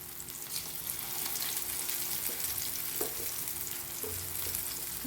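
Brinjal slices shallow-fry in oil in a pan, giving a steady, close sizzle with a few soft clicks and stirring sounds throughout.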